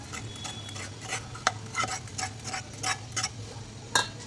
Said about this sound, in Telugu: ఇలా వేడివేడిగా ఉన్నప్పుడే ఒక స్పూన్ తీసుకొని దీన్ని బాగా మిక్స్ చేసుకోవాలండి